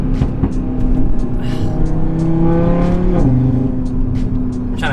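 A modified 2018 Audi RS3 revs and accelerates from the cabin, the engine tone climbing steadily before a quick gear change drops its pitch, loud and continuous with faint road bumps beneath.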